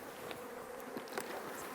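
Faint buzzing of a honeybee swarm near a hive box, a soft steady drone with a few individual bees passing close.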